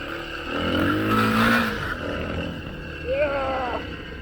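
A Kawasaki KLX300 dirt bike engine revs and climbs in pitch while being ridden off-road, loud and close, with the rider whooping and shouting over it.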